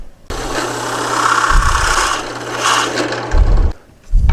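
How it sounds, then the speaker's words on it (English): Drill press fitted with a brad point bit boring into wood for a scroll saw candle holder project: a steady motor whine runs throughout with rising grinding bursts as the bit cuts, then a brief lull before it starts again. "Bring the drill press down."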